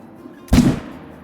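A single sharp rifle shot in the hunting game Call of the Wild while stalking warthog, one loud close blast with a short decaying boom against a quiet background.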